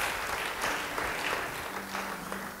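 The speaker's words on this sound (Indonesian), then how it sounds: "Yang percaya beri tepuk tangan bagi dia." Congregation applause in an Indonesian church service, a short burst of fairly soft, dense clapping with a faint hum underneath.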